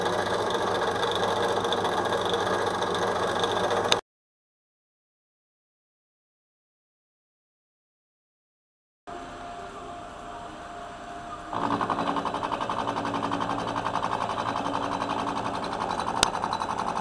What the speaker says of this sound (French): Je suis en train de couper la matière.